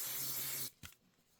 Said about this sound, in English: I'm going to give it a little shot of spray.